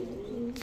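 A racing pigeon in a breeder's loft gives a brief low coo, one soft sustained call heard close and fairly faint, ending with a short burst of noise.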